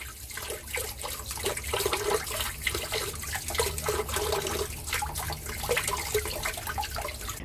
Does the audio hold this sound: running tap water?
yes